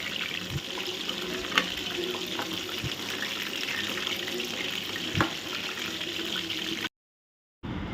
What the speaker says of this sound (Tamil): நீங்கள் இந்த லெக் பீஸ் பொரியும் போது நல்லா திருப்பி விட்டுக்கோங்க